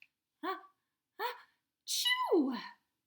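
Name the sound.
reader imitating a bear's sneeze in a storybook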